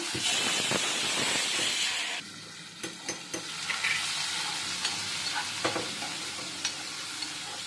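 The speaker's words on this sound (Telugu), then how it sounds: "ఆనియన్స్ని బాగా వేగనివ్వాలి" Onions frying in oil in a pan after the tempering seeds have browned, giving a loud, steady sizzle that hisses hardest at first, then settles into a softer crackle with scattered pops and clinks of stirring; no talking.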